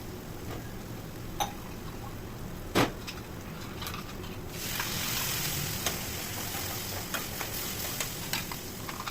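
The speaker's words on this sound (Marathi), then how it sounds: "हा मसाला आपल्याला तेल सुटेपर्यंत चांगलं भाजायचं आहे" Ground masala paste fries in oil for a traditional bam fish curry, giving a steady soft sizzle with occasional stirring scrapes and a slightly louder sizzle in the second half. No one speaks.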